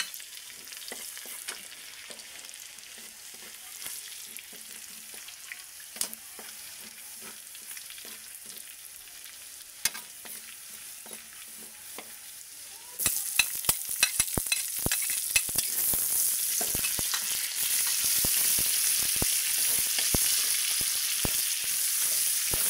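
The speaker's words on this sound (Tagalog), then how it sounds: "magigisa na tayo ng bawang sibuyas guys" Garlic and onion sautéing in a pan for pansit bato gisado, a soft steady sizzle that turns louder and denser partway through, with frequent stirring clicks and scrapes, close up and with no talking.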